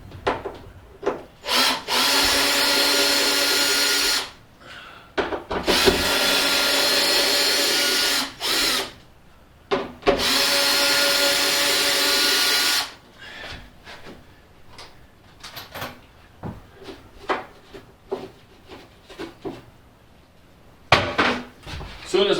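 A power drill backs screws out of the wooden lining of a cargo trailer being converted to a toy hauler, in several loud whirring bursts a few seconds long, followed by scraping and clattering handling noises.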